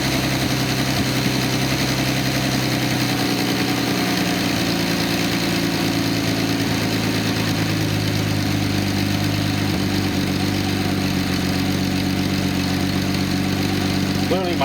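A Datsun 280ZX L28 engine idles on a test stand with a loud, steady, smooth drone and a low rumbling pulse that holds even throughout, and a voice speaks briefly beneath it.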